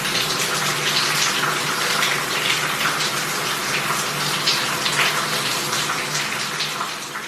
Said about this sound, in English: There's nothing like a good old shower.